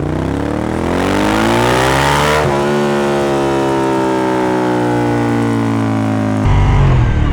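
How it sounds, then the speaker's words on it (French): Suzuki SV 1000 S from 2003, a V-twin motorcycle, revving loudly and close by, its pitch climbing through a sustained rise before dropping back as the throttle is eased and blipped again. "Oh, puis ce son bicylindre,"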